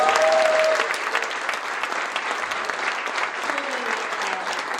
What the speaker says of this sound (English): to be followed in another round of applause for Judge Kevin Brazil